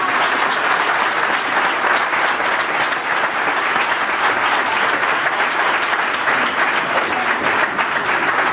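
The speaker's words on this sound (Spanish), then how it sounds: "un fuerte aplauso para ella" Sustained audience applause for a speaker named Ana, dense and steady from start to finish, loud and close with no talking over it.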